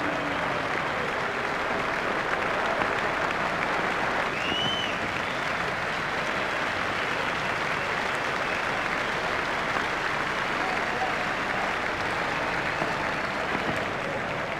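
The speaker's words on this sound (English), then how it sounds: "Crowd are standing to applaud him." Cricket crowd at a one-day international between India and Australia giving a standing ovation for a batsman's half century, steady full applause sustained throughout from a large stadium audience.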